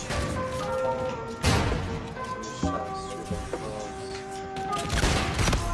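Rapid video-game gunfire in a multiplayer shooter, dense bursts of shots with sharp louder cracks recurring throughout, continuous and close over a steady game soundtrack.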